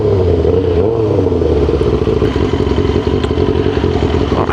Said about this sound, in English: this bike is so good